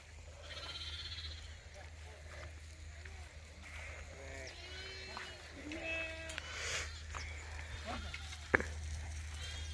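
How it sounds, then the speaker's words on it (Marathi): A flock of sheep resting in a farm field among shepherds gives scattered, overlapping bleats at middle distance, rising in the latter half over a steady low rumble of outdoor noise. "आज शेतामध्ये मेंढ्या बसवल्या आहेत बघू किती मेंढ्या आहेत"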